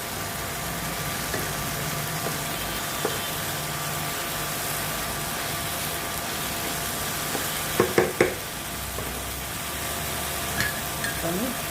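Dried sukat fish sautéing in a pan gives a steady, soft sizzle throughout, with a few sharp clinks of a spoon stirring near the middle and again near the end.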